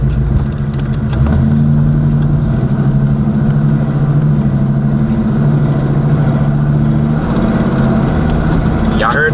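A box Chevy car engine drones under load while driving, its pitch rising and dropping as the transmission shifts gears, a steady close hum with a brief clunk near the start.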